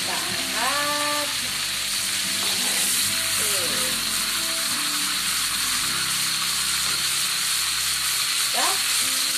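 Constant hissing sizzle of food frying in a pan for sambal, with occasional stirring scrapes and faint voice-like tones in the background.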